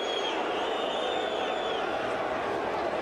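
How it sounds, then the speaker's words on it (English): Stadium crowd at a 1988 Bicentenary Gold Cup football match between Australia and Brazil, reacting to a referee's no-foul call with a steady, loud roar and whistling that carries across the whole stretch. "you can hear what the crowd thought of that."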